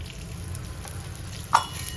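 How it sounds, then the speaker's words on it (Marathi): Edible gum (dink) roasting in ghee in a pan: a constant soft sizzle and crackle, close and even, with one brief sharper pop or stir near the end, no talk. "तोपर्यंत डिंक भाजून घेते तूप टाकायचं डिंकाला"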